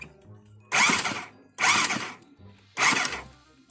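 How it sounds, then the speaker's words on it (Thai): Three loud bursts of clattering, rattling motorcycle engine noise from a slack timing chain, each about a second long, separated by short quieter pauses. "เหมือนเสียงโซ่จริงๆด้วยท่านผู้ชม"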